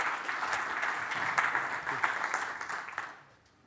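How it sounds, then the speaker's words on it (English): Conference keynote audience applauding to welcome a speaker, a steady burst of clapping that tapers off and fades out after about three seconds. "let's have a round of applause, please"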